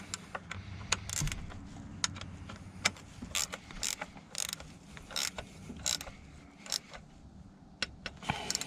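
Wrench ratcheting and tool clicks while a bolt is snugged into aluminum on a 1995 BMW 525i with an M50 engine during an oil change, close and irregular sharp clicks over a low background hum.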